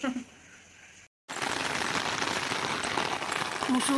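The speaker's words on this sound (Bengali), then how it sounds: "বৃষ্টি হচ্ছে কন্টিনিউ মুসলধারে রাতের থেকে" Heavy, continuous downpour that has lasted since the night, heard as a dense, steady close hiss of rain on surfaces after a short silent gap near the start.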